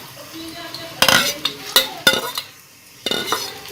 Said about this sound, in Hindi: घी हमारा गर्म हो चुका हुआ है। अब हम इसके अंदर प्याज डाल देते हैं और इसके साथ ही हम इसके अंदर अदरक लहसुन पेस्ट डाल देंगे।